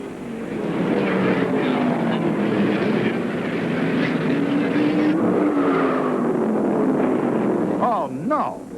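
Stock cars race at Martinsville Speedway in the 1975 NASCAR Dogwood 500, engines droning and rising in pitch as cars pass, a continuous roar of the pack circling the short track, with a brief sharp burst near the end.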